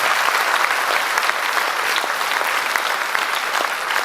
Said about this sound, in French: je pense qu'on pourra encore applaudir Guillaume et donc Yannick pour le travail